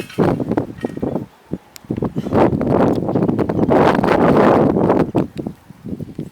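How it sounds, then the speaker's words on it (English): Gusty wind buffets the microphone in loud, rumbling bursts, swelling for several seconds before easing off. "oh, it's getting windy"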